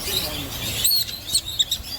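Pet lovebirds chirp and tweet in quick high bursts, close and fairly loud, with a few sharp squeaky calls over light background noise.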